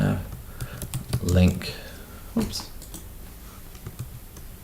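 Quick clicking keystrokes on a computer keyboard while writing a social media post, close and fairly soft, tapping in short bursts under someone speaking.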